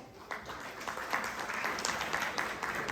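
Applause at a dealer meet at the Hyatt in Gurugram as a guest is called to the stage, a steady wash of clapping from a crowd, moderately loud and continuous for the whole stretch.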